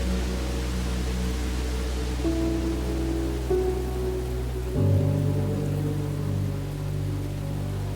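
Heavy winter rain falls steadily in the Scottish Highlands, a dense, constant wash of downpour with a low rumble underneath, loud and unbroken throughout.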